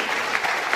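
Brief, dense clapping from an audience at a school parents' induction gathering, steady and moderately loud with no talking.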